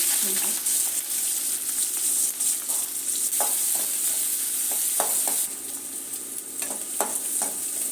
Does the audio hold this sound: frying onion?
yes